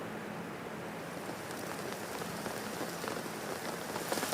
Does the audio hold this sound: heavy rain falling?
yes